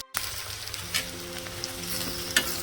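Flat beans curry simmers in a pan on low heat, a soft steady sizzle with a couple of light stirring clinks, close and quiet, no talk.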